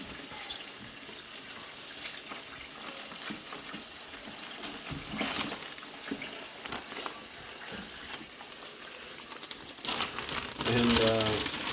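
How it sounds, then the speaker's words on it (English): Burger patties are slipped into a plastic Ziploc bag in a home kitchen, with soft crinkling and rustling of plastic, a few sharper handling noises, and faint running water in the background. "we're just going to put that in the Ziploc bag"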